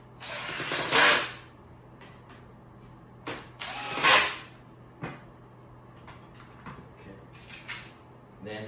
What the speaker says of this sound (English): Put the screw in.